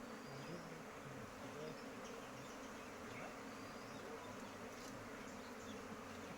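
Honey bees swarm in a dense, steady buzz during the capture of a wild colony, a close continuous drone with no letup and no voices.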